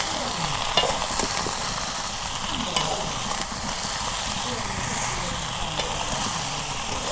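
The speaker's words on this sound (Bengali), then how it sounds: "মরিচের গুঁড়া, হলুদের গুঁড়া, এখানে আমি ভালো করে নাড়াচাড়া করে ঢাকা দেব" Chili and turmeric powder being stirred in a frying pan for a traditional village dish with batta fish, a steady sizzle under continuous stirring and scraping, close and moderately loud, no voices.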